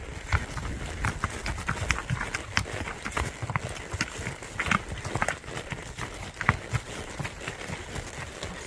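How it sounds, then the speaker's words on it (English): A gaited stud horse's hooves clip-clop in a steady, quick rhythm on a trail ride in Kentucky, moderately close with light ambient noise and no talking. "Got Maverick, our stud horse, gaiting off."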